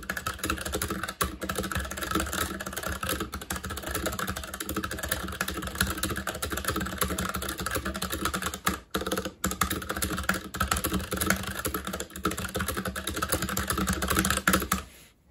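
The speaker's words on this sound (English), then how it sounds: "let's do a quick type test to get a feel of how it sounds." Steady, fast typing on an EagleTec KG061-BR low-profile keyboard with brown switches, a dense stream of soft, close clicks and clacks with no voices.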